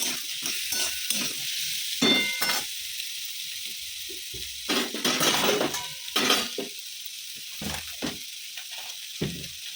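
Sun-dried lentil dumplings (bori) sizzle steadily in hot oil in a pan, with repeated scraping and clinking stirring strokes coming through close by.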